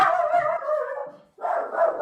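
A dog barks in a game: two drawn-out, mid-pitched barks close by, separated by a short gap, with nothing else around them.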